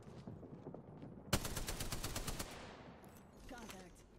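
Gunfire from a weapon in the Apex Legends video game, a sharp shot followed by a rapid automatic burst of about a second, with fainter game noise after it.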